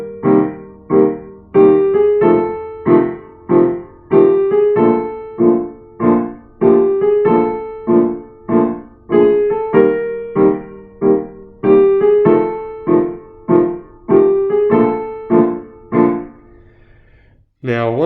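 Piano improvisation in which each chord tone is approached from two semitones below, played as a steady stream of detached single notes and short phrases, close and clear, with no talking.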